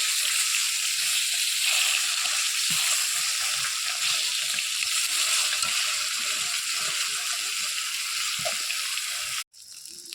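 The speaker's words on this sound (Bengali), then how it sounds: "এবারে কই মাছটাকে এপিট ওপিট করে ভেজে নেব।" Koi fish fry in oil in a wok with a loud, continuous hissing sizzle heard up close. It cuts out abruptly near the end, then briefly resumes.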